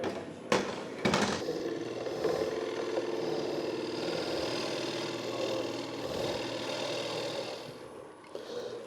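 A wood lathe spins a natural edge piece as a gouge cuts it, a steady motor hum under a scraping, rough cutting texture, with a couple of sharp knocks near the start.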